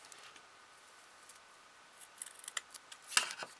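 Scissors snipping through lace trim on a small candle holder, a few soft, close snips growing louder toward the end, with one sharper cut near the finish.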